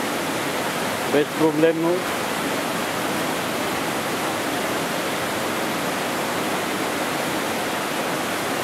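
Fotinovo waterfalls by a river near the village of Fotinovo roar as a steady, dense rush of falling water, filling the whole scene evenly, with a voice briefly speaking over it near the start.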